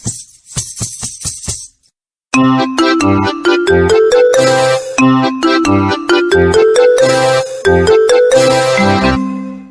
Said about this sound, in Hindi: मेरे डांस क्लास के लिए घुंघरू